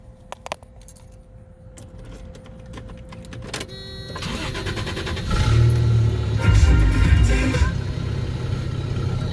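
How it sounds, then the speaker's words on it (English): A 1991 Toyota extra cab pickup cold-starts: keys jingle and click in the ignition, then the engine cranks and catches, settling into a steady, rising idle that runs loud and close to the end. "I'm going to start the car, or truck should I say, from cold"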